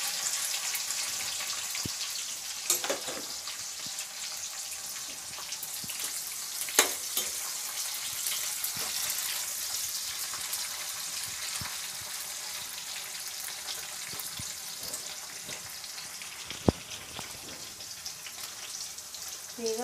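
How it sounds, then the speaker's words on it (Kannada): Curry leaves and onion hitting hot oil with mustard seeds for an okra palya, giving a steady close sizzle with occasional sharp pops and crackles throughout. "ಈಗ ಕರಿಬೇವು ಈರುಳ್ಳಿ ಹಾಕ್ತಾ ಇದ್ದೀನಿ."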